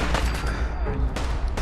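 Fallout 4 video game gunfire cracks out in a few sharp bursts, one near the start and two more close together later, over a rumbling game background with some talk.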